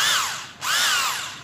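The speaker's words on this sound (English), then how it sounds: "This one for drilling po, metal and wood, so it will go around." Bosch PBH2100 RE rotary hammer drill spinning freely, two loud close whirring runs that wind down and up again with a brief dip between them.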